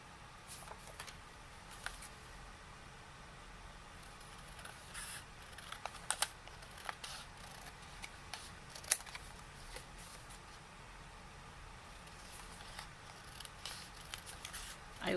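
Scissors cut through double-sided Stamperia craft paper with a series of quiet, scattered snips and crisp clicks over a hushed room background.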